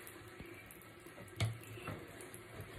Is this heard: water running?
yes